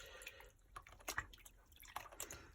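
Warm water being run and splashed in a sink for soaking raw alpaca fleece, with faint, irregular drips and small splashes at a soft, close level.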